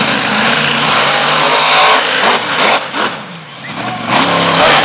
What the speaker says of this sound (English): It sounds like the tranny might be slipping a little bit.